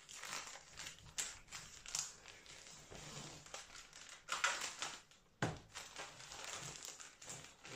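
A blade slices open a cardboard shipping box with scraping, crinkling cuts and tearing, close and fairly quiet, with small pauses between strokes and a sharper rip near the end.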